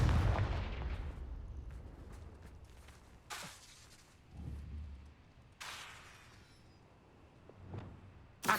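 The Confringo blasting spell goes off in a wizard video game, several sharp explosive bursts spaced a few seconds apart, each with a rumbling tail, over quieter game ambience.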